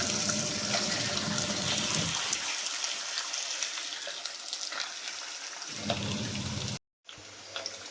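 Chicken 65 pieces deep fry in hot oil with curry leaves, making a steady loud bubbling sizzle that eases in the middle, swells again, then cuts off briefly and resumes softer.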